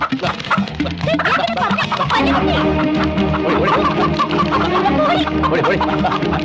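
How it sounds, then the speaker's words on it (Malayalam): Backyard chickens cluck and squawk in a busy, continuous chorus, close by and fairly loud, with scattered sharp calls over a steady background. "ഇയാള് നമ്മുടെ കോഴികളെ പിടിക്കുന്നു"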